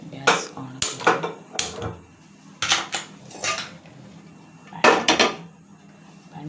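Metal pan and utensils clattering on a gas stove while cooking egg paratha, a series of sharp, irregular clanks and knocks at close range with pauses between them.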